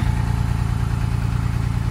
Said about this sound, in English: We've got potentially something going on with the engine here.